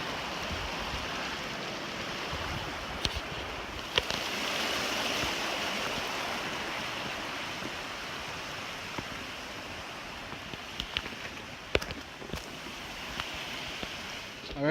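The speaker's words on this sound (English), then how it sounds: "There's the creek down there." A creek in the mountains seen from a long backcountry hike rushes as a steady, broad wash of flowing water, fairly loud and unbroken, with a few faint clicks on top and no voices.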